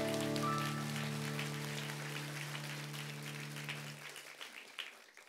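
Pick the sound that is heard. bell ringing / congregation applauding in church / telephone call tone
congregation applauding in church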